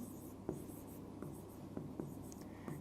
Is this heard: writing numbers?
yes